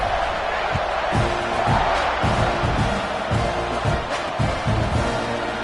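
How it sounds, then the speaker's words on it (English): Football stadium crowd at a college game between Texas A&M and Iowa buzzes steadily after a score, a dense, loud roar of many voices with scattered claps and whoops throughout. "this crowd is buzzing after that last score"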